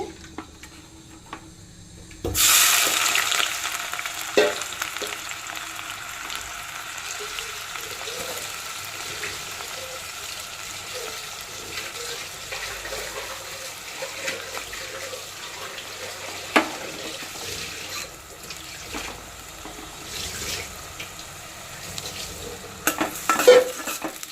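Onions drop into heated oil in a heavy pot for Konaseema chicken curry, bursting into a sudden loud sizzle that settles into steady frying with occasional stirring clinks and scrapes, close by and without speech.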